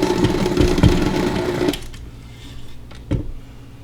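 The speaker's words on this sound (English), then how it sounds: "this is why a stand mixer is so good when you're doing things like this. Put it down, lock it in, and now we'll combine those things." A stand mixer combines chocolate chip cookie dough with a loud motor whir and rattle that stops partway through. A single clunk follows in the quieter stretch.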